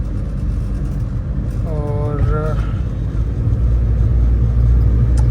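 Cabin noise inside a moving Suzuki Alto converted to a 660cc automatic, a constant low road and engine rumble with faint rattles from the rear seats and doors, overlaid briefly by a voice.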